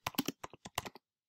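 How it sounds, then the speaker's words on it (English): Quick bursts of keystrokes on a computer keyboard, a short run of close, crisp clicks followed by silence. "If you want words on your Bitmoji, you can actually type any words you want and they'll come up."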